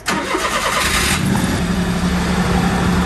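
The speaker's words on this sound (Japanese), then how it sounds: "よかった、 エンジンかかりましたね。" Engine of an old kei van cranking and catching after an oil change, then settling into a steady, loud idle hum close by with no talk over it.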